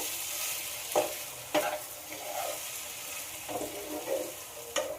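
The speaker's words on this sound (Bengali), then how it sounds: "ঘিটা গলে গেছে এবার জল ঝরিয়ে রাখা সাবুটা দিয়ে দেব ওটা দিয়ে খুব ভালো করে নাড়তে হবে" Soaked, drained sago being stirred in melted ghee in a pan, with a low steady sizzle and sharp scraping strokes of the spoon against the pan at irregular intervals, close by and with no talking.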